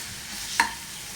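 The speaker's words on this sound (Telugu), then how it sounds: "అల్లం వెల్లుల్లి పేస్ట్ కూడా కొద్దిగా వేసుకొని కలుపుకుందాం" Ginger garlic paste is stirred into a tomato egg curry in a pan: a single short scrape of a spoon over a soft background sizzle, close and brief.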